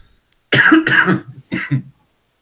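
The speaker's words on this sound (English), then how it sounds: "I apologize for the coughs. I'm still getting over a cold." Two loud, close coughing fits from a person with a cold, the first a double hack and the second a shorter pair, then quiet.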